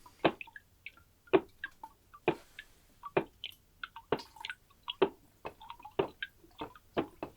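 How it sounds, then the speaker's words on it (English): Wet, sand-like clay material sits in a large sieve whose frame is tapped at a steady rhythm, about one sharp knock per second, with small drips and wet squelches scattered between the taps in an otherwise quiet space. "Wet, sand-like material is filtered through a large sieve, tapping its frame to encourage water to pass through."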